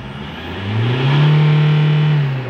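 A Toyota Fortuner engine, just repaired with a new camshaft sensor after a P0340 fault, revs from idle up to around 4,000 RPM, holding a loud steady drone before easing back down.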